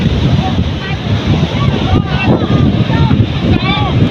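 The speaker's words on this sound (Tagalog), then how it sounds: "Ayan na naman ang alon." Sea waves crashing and surging in heavy wind noise, continuous and loud throughout, with people talking over the roar of the water.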